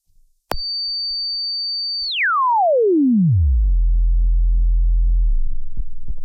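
A click, then a steady high electronic tone from a signal generator that sweeps smoothly downward into a loud low hum before cutting off.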